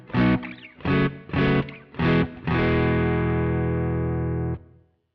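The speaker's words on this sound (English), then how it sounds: "Now it sounds like I'm playing an amp in a real room." An electric guitar runs through a Deverb room-style reverb in Pro Tools. Four short, loud strummed chords come in a steady rhythm, then a final chord rings out for about two seconds before cutting off.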